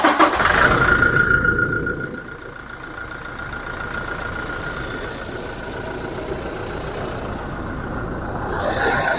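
A 2019 Toyota Innova Crysta diesel engine cranks and catches with a loud burst, then settles into a steady, close idle rumble that rises slightly again near the end.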